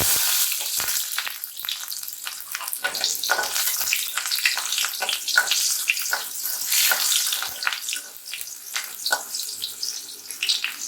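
Shallots frying in a pan for radish chutney give a steady, close sizzle with scattered crackles and the occasional stir, running continuously without speech.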